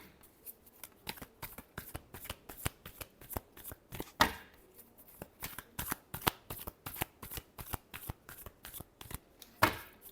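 Tarot cards being shuffled by hand in a rapid, irregular stream of crisp riffling flicks and snaps, close and clear, with a couple of louder slaps along the way and no talking.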